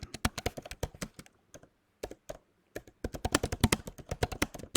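Close, quiet typing on a computer keyboard: fast bursts of crisp key clicks separated by short pauses, ending in a dense flurry of keystrokes.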